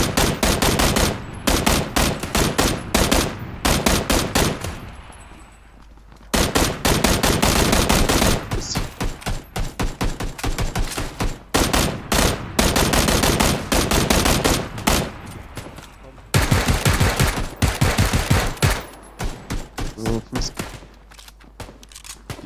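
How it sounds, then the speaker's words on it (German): Bursts of automatic machine-gun fire in the PUBG battle royale game, rapid and loud, in long repeated volleys broken by a couple of short pauses. "Die schießen noch leer."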